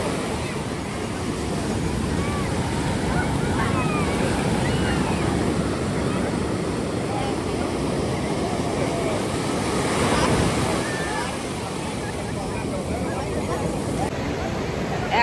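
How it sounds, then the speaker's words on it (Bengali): Big sea waves pound Puri beach on the Bay of Bengal, a continuous loud roar of surf with rushing wash and wind noise buffeting the microphone throughout, with no talk. "ইস, কি বড় বড় ঢেউ।"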